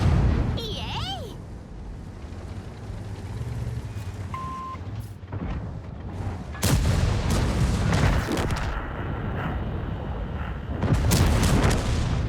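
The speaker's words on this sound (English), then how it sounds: "we're basically shooting on reload here" Tank cannon fire in the World of Tanks video game, with booming shots and impacts over constant engine rumble, a few heavier blasts standing out, along with a short beeping tone.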